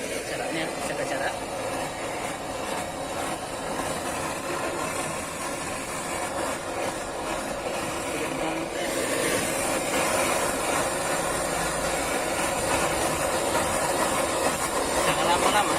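A steady, close hiss of a small gas torch flame, set low, plays continuously while it heats dull motorcycle plastic. The rushing noise stays even throughout, with no talk.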